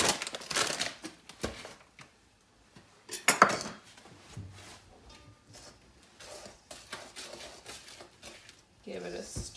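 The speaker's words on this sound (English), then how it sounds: "Give it a stir. And this is why you want a nice big bowl." Cookie dough and flour stirred in a big bowl for chocolate chip cookies, giving irregular scrapes and knocks of utensil against bowl, with a louder clatter near the middle and quieter scraping after; some faint talk around it.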